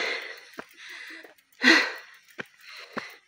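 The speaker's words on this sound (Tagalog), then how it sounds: "Hingal na po ang yan." A cyclist riding uphill breathes heavily in ragged gasps and wheezes, with one long loud exhale near the middle and sharp short breaths between quieter stretches.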